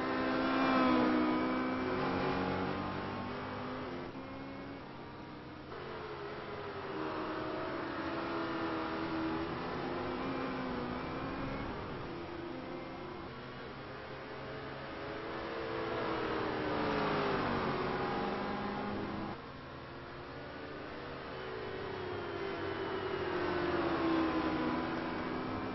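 Race cars at Watkins Glen sweep through the turns, their engine notes rising and falling as several cars pass one after another at a distance, a continuous roaring drone with repeated swells.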